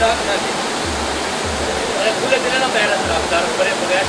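Water pours from above over rocks at Neela Wahan in Chakwal, a steady, loud, dense roar of falling water that fills the scene continuously and close by.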